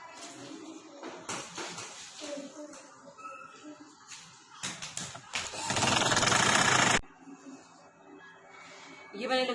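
A sewing machine stitches fabric in a single loud, steady run of about two seconds in the middle, with someone talking before and after and softer handling noises around it.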